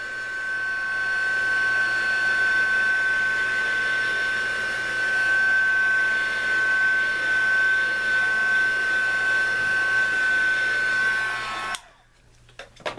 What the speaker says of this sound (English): And then I go ahead and I heat it up just to dry it quickly.